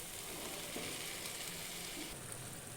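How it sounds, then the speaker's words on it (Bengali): Chickpeas being stirred into chicken ghugni in a pan, a steady soft sizzle with faint scraping of the spoon running throughout. "কাবলি ছোলাটা দিয়ে নেড়ে নিলাম"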